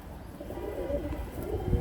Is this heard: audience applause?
no